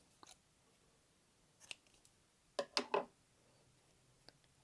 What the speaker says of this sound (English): I'm going to chain one and then cut my yarn